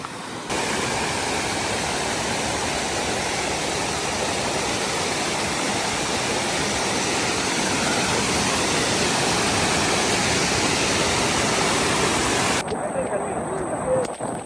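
Water pours forcefully down a waterfall near Kutralam, making a loud, steady, unbroken roar that fills the whole stretch and shifts slightly near the end.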